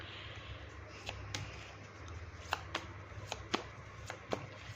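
An angel oracle card deck is shuffled by hand, with soft riffling and a scattered series of crisp card snaps and taps, close and fairly quiet over a faint room hum, with no talking.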